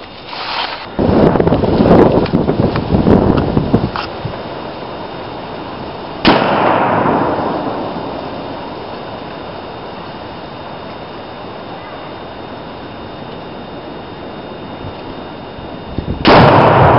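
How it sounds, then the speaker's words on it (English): Tannerite exploding targets blowing up bags of movie popcorn outdoors: a heavy, wind-buffeted blast and rumble, then a second sharp detonation whose boom rolls away into a long decaying echo, another burst starting at the end. "Got some exploding targets, Tannerite, and versus several bags of movie popcorn."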